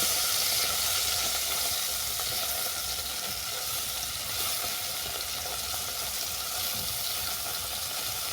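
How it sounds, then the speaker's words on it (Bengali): Small khaira fish frying in hot oil for a kudroi tel kosa, the pieces flipped partway, giving a steady, close, dense sizzle with faint crackle and no talk. "মাছ এক পিঠ ভাজা হয়ে যাওয়ার পর আমি অপর পিঠটাকে উল্টে দিচ্ছি।"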